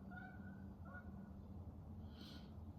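Two geese flying overhead give a few faint, distant honks early on, set against a quiet outdoor background hum.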